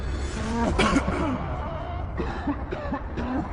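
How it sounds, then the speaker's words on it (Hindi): Several harsh coughs and throat-clearing sounds, close by, breaking up a noisy, murmuring background. "उसे भी खांसी आनी शुरू हो गई थी।"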